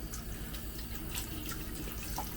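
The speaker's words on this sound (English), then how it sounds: "I need to wash my hands again now" Tap water runs steadily into a kitchen sink while hands are rinsed after handling raw pork chops, a continuous close splashing hiss with small drips, no voices.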